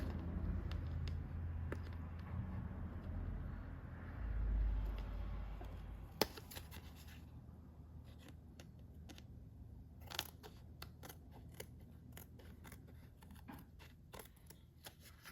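A paper journal tag is trimmed in a quiet room. A few faint, crisp snips and small creaks stand apart over a low background hum.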